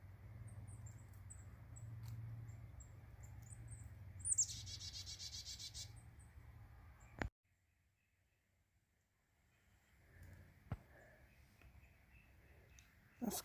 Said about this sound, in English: These little birds have the best view.